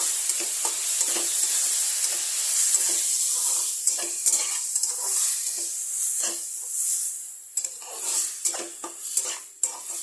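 Ginger garlic paste frying with spices for egg curry, a steady sizzle in the pan punctuated by scraping stirs and spoon clinks against the pot, with no talking.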